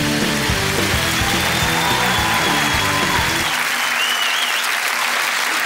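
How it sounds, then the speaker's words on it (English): Loud, sustained applause from a large television studio audience with whoops, clapping steadily throughout while music plays underneath and then drops away. "please make some noise, specifically of the excited and welcoming kind"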